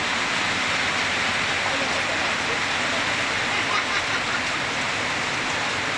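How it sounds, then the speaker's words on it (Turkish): Steady rain falling in Kampot, Cambodia, a constant dense hiss of drops pouring down without letup, loud and even throughout. "Yağmur yağıyor."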